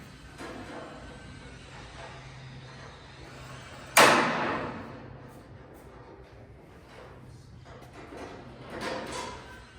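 A single sharp metallic snap from a spring-loaded center punch marking a drill point on a truck tailgate rings out partway through, followed by a brief decaying ring, against quiet room background.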